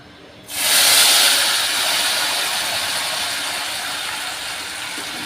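Mustard seeds and cumin dropped into hot oil for a dal tempering, an abrupt loud hiss bursting in and then settling into a steady sizzle that fades slowly, close with no talk.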